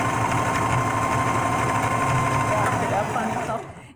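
Sewing machine backstitching in reverse and then forward to lock a stitch, a loud, close, fast mechanical whirring hum that runs steadily, then slows and stops at the end.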